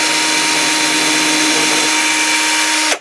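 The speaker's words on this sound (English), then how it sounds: "it's just drilling a really tiny hole" A drill bores a tiny hole in a small wooden piece, a steady loud high-pitched whirring motor that runs continuously close by and cuts off abruptly at the end.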